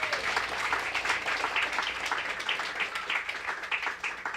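Audience applause at a youth leadership breakfast program, a steady patter of many hands clapping at moderate distance, sustained evenly for several seconds.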